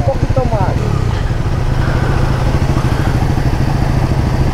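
A Bajaj Pulsar NS 400Z motorcycle engine runs close by with a loud, throbbing rumble that holds steady throughout, while voices talk over it.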